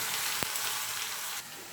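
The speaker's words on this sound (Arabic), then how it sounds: "كنديروا اللحم وكنقلبوه باش يعني يتشوكا ليا" Lamb meat sizzles and fries in a hot pan during preparation of Moroccan mrouzia, a steady close hiss with a brief stirring clatter early on, easing slightly near the end.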